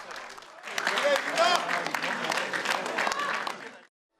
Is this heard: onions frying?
no